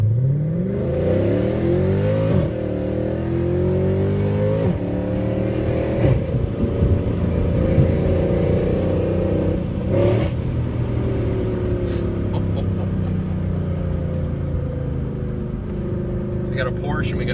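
A Mercedes-AMG C63 accelerating on a mountain road, its engine loud and close, climbing through repeated rising runs with gear changes, a deep rumbling drone that holds steady toward the end.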